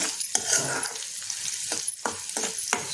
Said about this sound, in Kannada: ಇದೊಂದು ಸುತ್ತು ಬೇಯಲಿ ಎಣ್ಣೆಲಿ ಬೇಗ ಆಗುತ್ತೆ